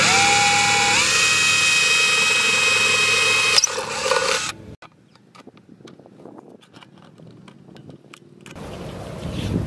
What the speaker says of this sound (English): Now we just need some duct tape and a drill to perforate the back, make a big hole at the back.